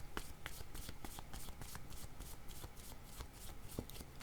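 A deck of cards is shuffled for a card reading: quick, soft riffling and flicking repeated steadily and close up, with no voices.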